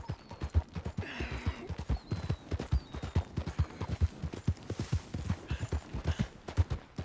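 Rhythmic hoofbeats of a horse trotting along at a steady pace in the video game Red Dead Redemption 2, close and clear, with faint background effects and no talking.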